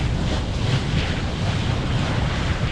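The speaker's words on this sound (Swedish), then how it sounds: "alltid här när man passerar utanför Läckerslott så kommer det en liten extra vindby" Wind rushes over the microphone of a sailboat under way past a shoreline castle, a loud, steady roar with water noise beneath, unbroken for nearly three seconds.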